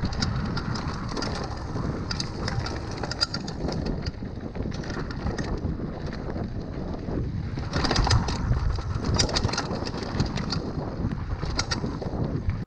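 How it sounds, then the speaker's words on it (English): An original Hyper Carbon X mountain bike from Walmart runs along a trail at speed, giving a continuous rattling clatter under heavy wind rush, with denser bursts of rattle partway through and no voices. "Listen to this section of the trail on the original bike."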